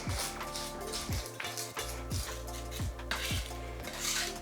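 A knife works garlic and salt into a puree on a cutting board, giving a series of regular scraping strokes, each a sharp close rasp, repeated about once every second with no talking.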